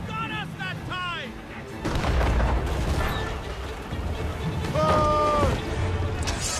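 Ship cannons fire in a naval battle in Assassin's Creed Rogue, with loud rumbling booms rolling through the clip over steady sea and wind noise, and voices shouting commands from the crew.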